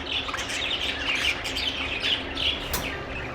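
Doves and lovebirds for sale in a pet bird shop chirp and tweet continuously, a dense chorus of overlapping high calls with occasional louder squawks close by.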